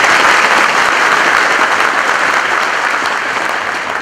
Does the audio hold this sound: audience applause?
yes